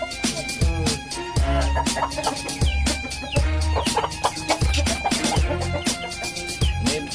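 Chickens cluck repeatedly nearby, irregular busy calls overlapping with sharp knocks and rustling in a lively farmyard.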